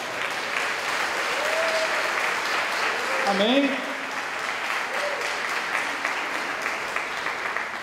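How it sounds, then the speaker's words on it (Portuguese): Congregation applauding during a church service, a steady wash of clapping with a few voices calling out and a brief spoken word from the front midway. "Quem recebe, aplaude o Senhor."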